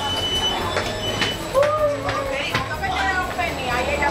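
A Cinque Terre train rumbles along the rails with faint metallic squeals and a few clacks, steady and close, as if heard from inside a carriage.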